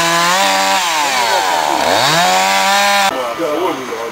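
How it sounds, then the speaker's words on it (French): Loud, close chainsaw cutting a log during a wood-cutting day, its engine pitch dropping under load then rising again, with a steady buzzing drone throughout. "il reste une bûche à scier"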